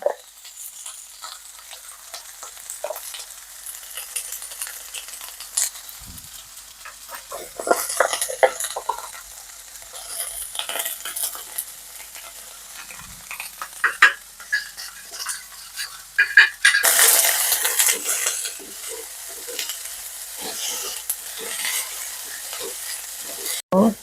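Potato and brinjal fry in a pan, a crackling sizzle broken by irregular spatula scrapes and stirring clinks, with a louder burst of hissing past the midpoint.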